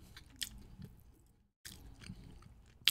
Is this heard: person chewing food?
yes